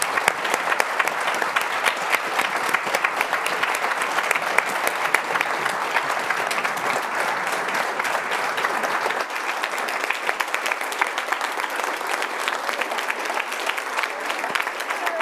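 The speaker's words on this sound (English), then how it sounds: "One more round of applause for our laureate." A large audience applauds the 2023 John P. McNulty Prize laureates at a plenary, with sustained dense clapping that holds steady throughout.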